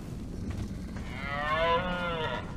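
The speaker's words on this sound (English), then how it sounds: "What sounds like cow?" A cow in the game ARK Survival Evolved gives one drawn-out, rising moo that swells in the middle and fades, heard clearly over faint background game ambience.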